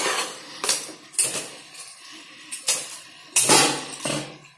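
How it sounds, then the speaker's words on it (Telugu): A spoon scrapes and knocks against a pot as rice and moong dal are mixed for pulagam, in about seven separate sharp strokes spaced unevenly, close and fairly loud, with no voices. "ఇందులో బియ్యము, పెసరపప్పు అవన్నీ వేసేసి బాగా"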